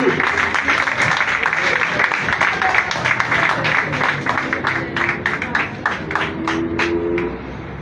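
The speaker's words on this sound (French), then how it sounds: "Acclamation, acclamation." A crowd at a 2025 legislative election rally claps and cheers in a loud, dense burst of overlapping hand claps that stays strong before easing slightly at the end.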